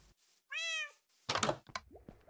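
A Minecraft cat gives one clear rising meow, followed by a couple of soft thuds and knocks from the game; short and fairly quiet, with no talking.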